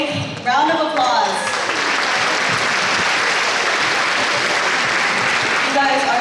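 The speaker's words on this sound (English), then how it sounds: "Now give them all a big round of applause." A crowd at a cultural night event bursts into loud, sustained applause for nurses and other healthcare students, starting after a brief spoken lead-in and continuing as a dense, even roar of clapping to the end.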